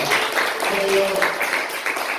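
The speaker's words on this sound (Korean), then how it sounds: "그분들을 위해서 박수 한번 쳐주시기 바랍니다." Church congregation clapping together during a Korean service, a steady, dense wash of hands that holds at an even level for the whole stretch with no talk over it.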